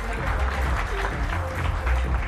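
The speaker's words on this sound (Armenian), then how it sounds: "ձեր ծափահարությունները" Audience clapping at a Muay Thai championship, a dense steady burst of applause from a crowd for a couple of seconds.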